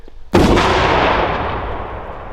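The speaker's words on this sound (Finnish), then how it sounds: "Joo, niin oli nallin pamaukset, kuulosti kyllä." An electric blasting cap sets off a sharp, loud bang during an ammonium nitrate fertilizer explosion test outdoors, with a rumbling tail decaying over about two seconds.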